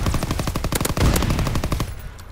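Rapid automatic machine gun fire in the World War II shooter Call of Duty: WWII, during a Demolition match on a sandbox map. A steady burst of close, loud shots fades out near the end, with no talking over it.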